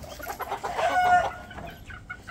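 Hen clucking nearby at a backyard poultry yard, a short run of throaty clucks rising into a drawn-out squawk, loud and close with no talk.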